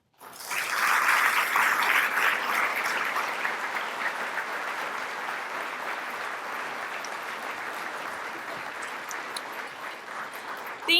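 Sustained applause from a large audience at a Kansas State University student employee of the year ceremony, starting abruptly and holding steady, then gradually thinning toward the end.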